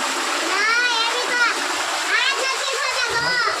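Water splashing during bathing in warm water, a steady close wash of splashes running throughout, with a voice and other talk over it.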